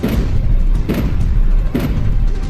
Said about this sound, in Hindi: विशालगढ़ से तोप के 3 गोले छूटते हैं।